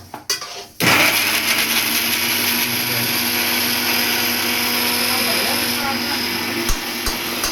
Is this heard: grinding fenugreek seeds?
yes